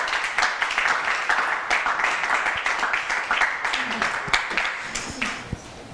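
Audience applause during a French-language spelling contest show: a dense, steady wash of clapping fills the whole stretch at moderate level, with faint voices mixed underneath.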